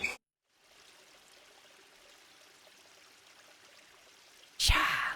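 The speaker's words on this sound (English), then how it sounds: "Sound of water, running water wakes me up." Running water in the video game YumeUtsutsu Re:Master: a soft, steady stream that fades in after a brief silence and flows evenly, then is cut off by a sudden loud burst at the end.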